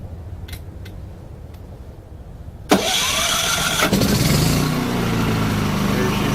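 A Champion 3400 generator running on propane with the choke out starts up: a few faint clicks over low background noise, then the engine catches abruptly and settles into a loud, steady running drone that continues to the end.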